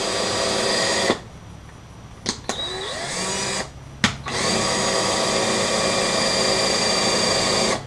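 A power drill runs in reverse through a boat's fiberglass gel coat, whining loudly and steadily, stops twice briefly with sharp clicks, then runs on again at a constant pitch.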